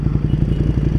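A Ducati Panigale V2 motorcycle being ridden, its engine giving a loud, deep, rapidly pulsing throb with steady exhaust rumble, close up and continuous with no speech.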